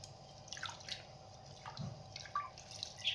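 Soft, sparse water drips and small splashes come from raw mangoes being washed in a kitchen, faint and irregular against a quiet background.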